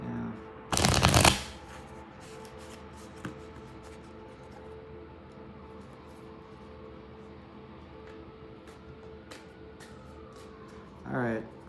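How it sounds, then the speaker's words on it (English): A deck of tarot cards is riffled in one loud, quick burst, followed by quiet handling and a brief second shuffle near the end. "we'll give it one more shake, one more shuffle"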